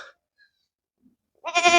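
A goat on a farm gives a single loud, wavering bleat near the end, after a short faint call at the start and a stretch of near silence.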